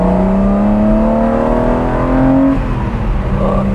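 A 1980 BMW M1 sports car accelerates on a winding road. Its engine drones close and loud, the pitch climbing steadily before easing off near the end.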